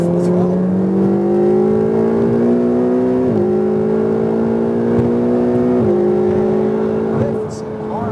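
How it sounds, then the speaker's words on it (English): Ferrari 488 at full throttle on High Plains Raceway, a loud rising engine tone that climbs through gears with two clear shift drops, close and dominant, fading slightly at the end. "Down this section and full throttle."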